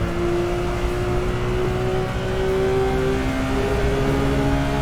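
A race car engine in Assetto Corsa holds a loud, steady drone as it accelerates on a lap of Spa-Francorchamps, with no voices over it.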